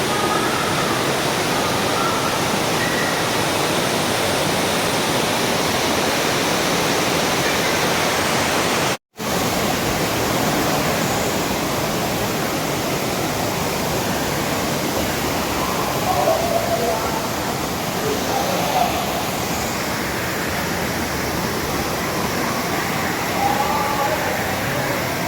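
Rushing water current echoing inside a cave on a Bicol walking tour, a steady loud roar like a waterfall that fills the whole stretch without pause.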